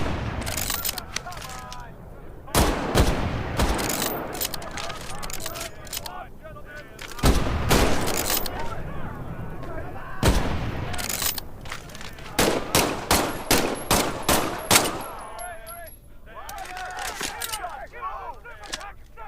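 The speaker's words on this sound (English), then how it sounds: "The K98 is a bolt-action rifle, so you reload by pulling and pushing the bolt after each burn." K98 bolt-action rifle shots in the Medal of Honor VR game ring out as sharp, loud cracks spaced irregularly, with quieter bolt and movement sounds between them and speech-like sounds in the background.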